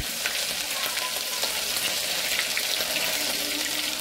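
Hot oil sizzles loudly and steadily as ginger-garlic paste fries in a pan, a dense crackling hiss with faint scraping, close up and without talk.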